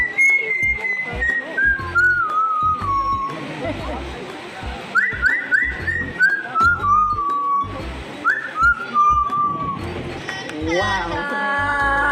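Bright whistled notes from a bird in repeated falling glides and short trills, fairly close, over steady crowd chatter and background noise at a bird show at African Lion Safari, Hamilton, Ontario.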